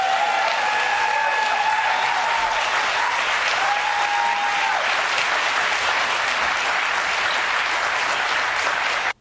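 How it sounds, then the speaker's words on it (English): Continuous, dense audience clapping filling the whole stretch at an even, loud level, with faint tonal whistles or cheers riding over it briefly near the start, then cutting off abruptly. "You see all the clapping."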